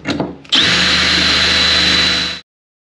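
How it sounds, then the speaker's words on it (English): A power drill stitch-drills with a wet bit, running steadily at high speed for about two seconds after a brief start-up, loud and close, with a grinding whine as it bores through material. "I've stitch drilled all the way across the top of there now"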